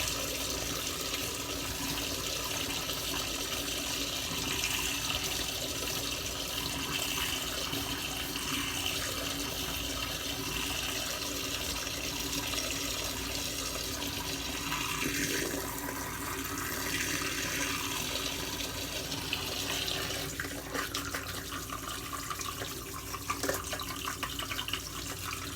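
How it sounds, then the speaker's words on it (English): Water running steadily from a bathroom tap during a wet shave, a continuous hiss and splash close by, with occasional faint clinks and movement. "I don't know how loud the water is going to be"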